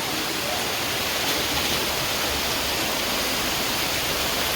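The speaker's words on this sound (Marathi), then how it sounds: "तुफानी पाऊस तुफानी" Torrential monsoon rain pours down on the way to Savatsada waterfall. It makes a dense, unbroken wash of hiss and roar, loud and steady throughout.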